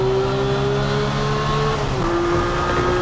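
A Porsche GT3 991.2 racing at speed on the Homestead Miami Speedway circuit, its engine holding a loud, steady high-pitched drone with a brief drop in pitch partway through, close and continuous, with no talking.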